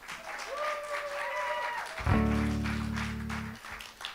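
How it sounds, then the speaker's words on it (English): Audience applause at a live music venue, The Bedford, steady clapping that swells after a sustained tone about two seconds in, fairly close and filling the room throughout. "put your hands together"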